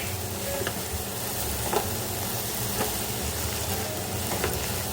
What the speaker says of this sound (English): let me just give this a nice little stir